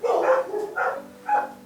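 Three sharp dog barks ring out close by in quick succession, each loud and separated by short pauses, with a faint hum behind them.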